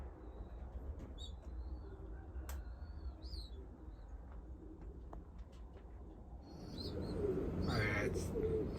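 Young racing pigeons in a loft cooing softly amid short chirps and wing fidgets, a low murmur of birds close by that grows busier and louder toward the end.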